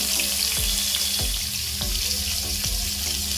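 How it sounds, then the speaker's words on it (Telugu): Bitter gourd pieces tipped into heated oil for a spicy onion bitter gourd curry: a continuous watery hiss of frying, punctuated by a handful of soft, evenly spaced thuds, moderately loud and close. "ముందుగా ఆయిల్ హీట్ ఎక్కింది కదా, కాకరకాయ వేసేద్దాం."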